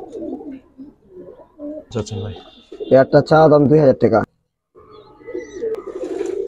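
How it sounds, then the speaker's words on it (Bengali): Pigeons coo at a pigeon seller's loft, including Bagha silver musaldom birds, with soft repeated calls running beneath a man's close conversation. "ডাক পছন্দ করেন যে কবুতর সারাদিন ডাকুক"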